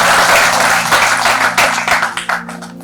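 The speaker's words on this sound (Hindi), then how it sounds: "मैं तालियों की गड़गड़ाहट के साथ उन्हें यहाँ पर आमंत्रित करता हूँ" An audience claps loudly to welcome a guest onto the stage, a close, thick burst of applause that thins and fades over a few seconds.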